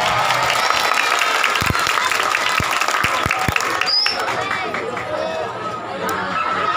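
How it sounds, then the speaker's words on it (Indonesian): Crowd clapping at a religious gathering in a musholla, a dense burst of applause that slowly thins out, with chatter and a few cheers mixed in. "Tepuk tangan."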